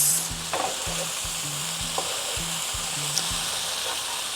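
Drained macaroni stirred in a hot pan, with a steady bright sizzle and several soft scraping stirs at an even rhythm, close and quiet, with no talking.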